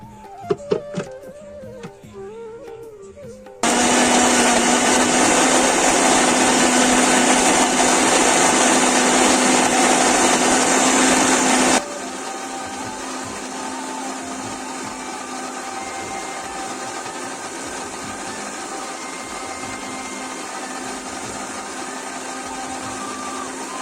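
An electric blender grinds soaked cashews and Horlicks into a paste, a loud, steady whirring roar that kicks in after a few seconds of quiet clatter, then drops to a lower, continuous running drone for the rest.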